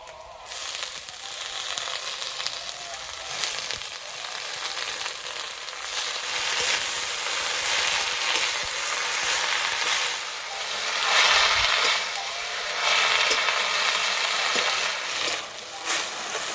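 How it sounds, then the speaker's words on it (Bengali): Jute leaves sizzling and being stirred in a pan of oil with dried chillies, crushed garlic, fried onion and potatoes, a steady close hiss of frying with occasional scraping, no speech. "এবার শাক দেব"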